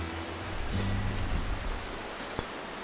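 Steady, soft rain patters continuously in the game NightSky, a diffuse wash of drops with a low mellow tone underneath and one faint tap late on.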